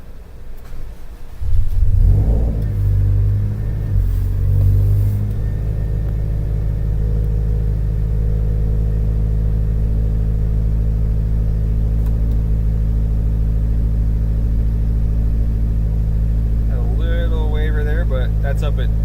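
A cold Subaru STi engine running an Emtron KV8 ECU, eight fuel injectors and an EFR8474 turbo cranks, fires and settles into a loud, steady idle rumble, with a brief voice near the end.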